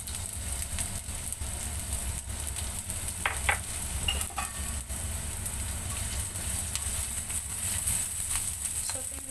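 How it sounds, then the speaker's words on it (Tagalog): Onion or shallot sautéing in a pan for homemade palabok, a steady close sizzle with a few scraping stirs, and a voice talking over it. "Sautein lang po natin siya sandali."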